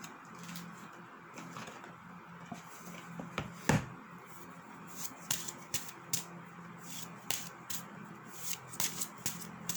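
Oracle cards are shuffled by hand in a quiet room, a series of soft, irregular riffles and flicks with one sharper knock partway through.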